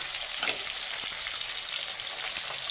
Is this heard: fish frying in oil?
yes